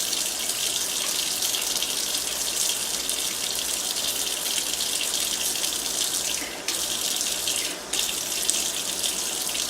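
Warm water runs steadily from a faucet for about ten seconds, a loud, close, continuous rush with two brief dips in flow.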